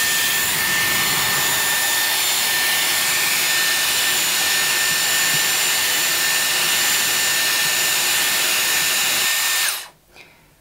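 A Dyson Airwrap hair styler blows a steady, loud rush of air on a cool shot while styling hair, holding constant before cutting off abruptly near the end, followed by quiet.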